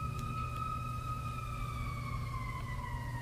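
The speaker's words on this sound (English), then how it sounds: "Sorry about the sirens." A siren wails in the distance, its pitch slowly sliding downward over a steady low rumble of background noise.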